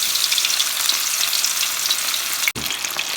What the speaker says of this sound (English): It starts sizzling.